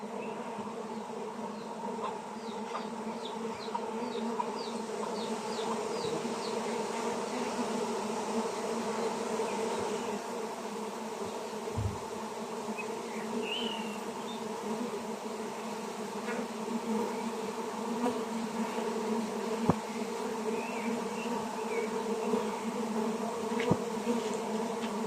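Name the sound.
honeybees buzzing around a hive box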